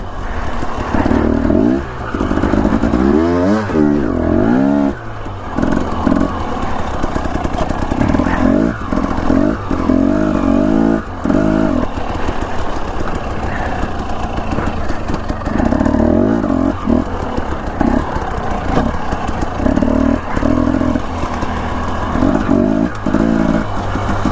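A motorcycle ridden along a mountain trail above Victor, Idaho, near Pine Creek, its engine droning loud and close for the whole stretch, with repeated rises and falls in revs as the rider works the throttle.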